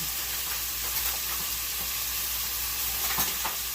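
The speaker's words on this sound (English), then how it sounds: "just kind of move this around in here a little bit. Get it all coated in the oil and the seasoning." Venison chunks sizzle steadily in hot oil with seasoning for a soup, with soft stirring scrapes now and then over a constant loud frying hiss, close by and without speech.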